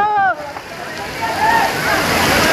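Water splashing and sloshing on a water park ride, a broad steady wash of spray building after a brief shout at the start.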